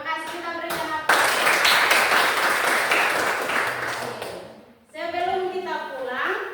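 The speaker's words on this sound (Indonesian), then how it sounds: "Terima kasih, kita berikan aplaus." A classroom of students bursts into loud, sustained clapping for several seconds after a presentation, with a teacher's voice talking just before and after the applause.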